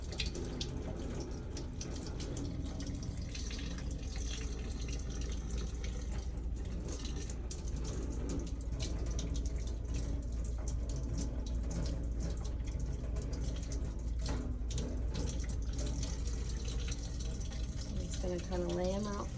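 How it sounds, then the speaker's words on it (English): Lukewarm tap water runs continuously as instruments are rinsed under the faucet, a steady close hiss of flowing water with faint clinks throughout. "using our cool to lukewarm water, we're gonna go ahead and rinse our instruments one more time"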